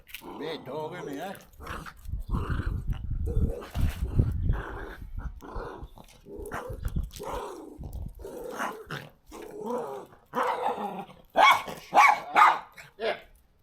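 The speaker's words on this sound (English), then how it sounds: "Barking goes right through your eardrums" Dog barking in a backyard in Gisborne, New Zealand, a string of sharp loud barks close by, mixed with someone talking throughout.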